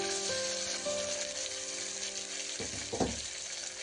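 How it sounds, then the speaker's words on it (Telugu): Onions and green chillies hit hot oil with spices while making Telangana bagara rice, giving a steady close sizzle of frying with a few stirring scrapes near the end. "ఇప్పుడు మనం కట్ చేసి పెట్టుకున్న ఆనియన్స్ ఇంకా పచ్చిమిర్చి వేస్తున్నాం"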